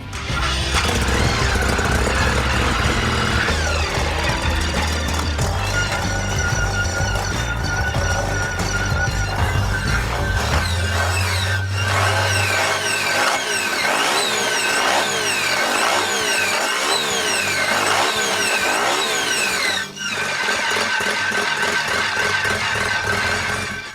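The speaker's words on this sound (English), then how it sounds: "The engine, powered by 2 Solex carburetors, is very smooth with no vibrations and a distinctive rotary sound, something in between 2 strokes and 4 strokes." A rotary-engine motorcycle fed by two Solex carburetors runs loud and close, holding a steady drone and then revving repeatedly in rising and falling sweeps, with no talk.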